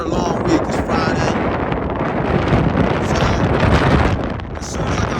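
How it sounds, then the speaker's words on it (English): Strong wind blows outdoors beside a 2016 Cadillac Escalade ESV truck, buffeting the microphone with a loud, continuous rushing roar that swells and eases slightly. "it's pretty windy"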